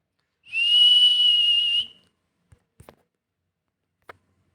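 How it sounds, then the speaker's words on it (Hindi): A whistle blown in one steady, bright, sustained tone lasting just over a second, followed by a few faint scattered taps in otherwise quiet surroundings. "मेरे सिवा तुम्हारी मधुर सीटी और कोई सुनने वाला यहाँ नहीं है"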